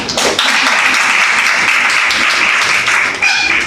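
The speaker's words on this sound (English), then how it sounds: "So could you clap for her again?" Audience clapping again for someone speaker after her talk at a business administration department event, a loud, dense burst of applause that holds steady and tapers at the end.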